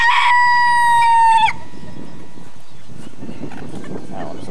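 A red rooster crows loudly and close for over a second, then soft clucking and chatter from red hens continue in the background.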